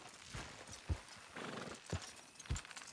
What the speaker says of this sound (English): You gonna pull that horse, or I gotta give it a kick?